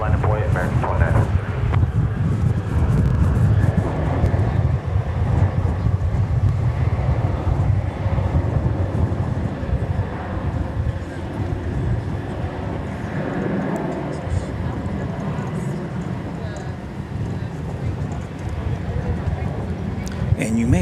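A jet takes off from runway 18 Left at DFW Airport, a loud, sustained engine roar with wind buffeting the microphone, while a voice talks over it.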